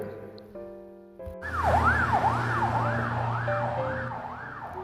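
An ambulance siren wails in a rising and falling cycle, loud and close, over the rumble of traffic after a brief musical intro.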